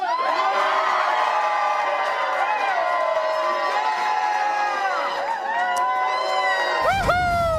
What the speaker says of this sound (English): Hard to argue that the 12s aren't the loudest fans in football when they cheer that loudly for a punter.